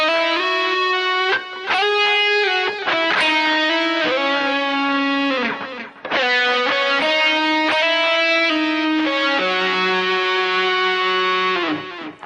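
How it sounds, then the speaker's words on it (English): Distorted electric guitar plays a sustained, singing melody line from a song, rising phrase by phrase with slides and held notes, loud and close with a brief break midway. "So I'm going to need some distortion for the melody."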